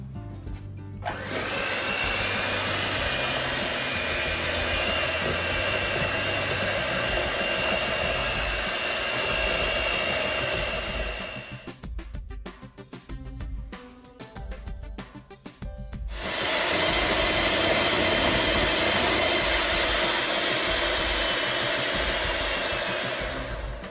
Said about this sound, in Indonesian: Jadi kita akan pakai hand mixer seperti ini. Ya. Seperti ini. Dan kita akan mix.